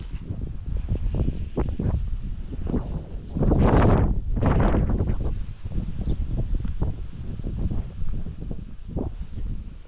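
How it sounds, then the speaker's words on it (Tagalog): Strong northeast monsoon wind gusting across an open farm, blustery buffeting on the microphone that swells into a loud gust midway, with rustling throughout. "Grabe lakas ang hangin."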